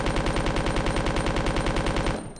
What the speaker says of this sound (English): Let's try the machine gun for a while.